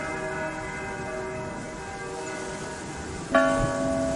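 A church bell rings with a sustained, shimmering resonant tone that slowly decays, and a fresh, louder strike lands near the end and rings on.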